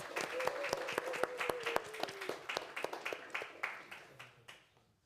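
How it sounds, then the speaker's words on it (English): A round of applause at a youth pinning ceremony, sharp individual claps from a smallish group rising to a steady patter, with a brief tonal voice early on, then thinning and fading out over the final second. "we can give a quick round of applause on this occasion"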